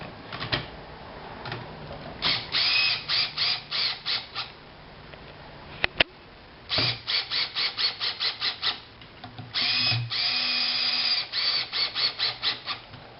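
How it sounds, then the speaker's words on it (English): A screw gun drives screws into a race ski binding in repeated pulsing bursts, several runs of rapid rattling whirs separated by short pauses, close and fairly loud. "Here I'm just using a screw gun to send the screws down pretty far, but not tighten them up quite all the way."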